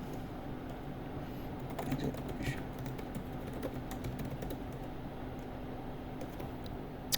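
Computer keyboard keys tapped while entering commands to configure a Cisco network device, light scattered clicks over a steady background hum with occasional louder taps.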